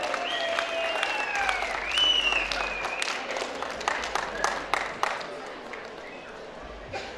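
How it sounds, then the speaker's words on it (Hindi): A crowd applauds at a women's beauty pageant at the Nalwar fair in Sundernagar, Himachal, clapping scattered but sustained, with cheers and whistles. The sound is moderately distant, and a voice talks over it on a microphone. "कहीं से बहुत जबरदस्त तालियां सुनाई दी मुझे अभी।"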